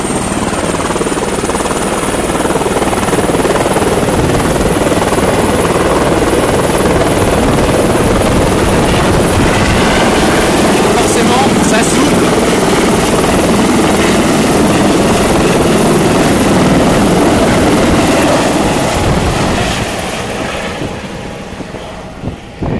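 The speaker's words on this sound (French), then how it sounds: "partager avec vous ce moment de décollage de l'hélicoptère" A helicopter taking off near Monaco, a loud steady rotor roar with a whine from the engine that holds for about twenty seconds and then fades as it moves away.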